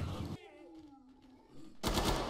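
Rapid, close, loud bursts of AR-15 rifle fire in the Killing Floor 2 video game, one burst at the start and another at the end, with a quieter ringing gap between them.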